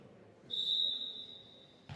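A referee's whistle starts play in a bantam boys' volleyball semifinal, one shrill, sustained blast lasting over a second against quiet gym ambience, ending in a brief thump.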